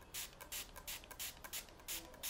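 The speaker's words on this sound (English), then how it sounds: "I'm going to spray some water on a corner of the towel." A hand spray bottle mists water onto the corner of a towel, with about eight quick, soft hissing spritzes in an even rhythm, close and fairly quiet.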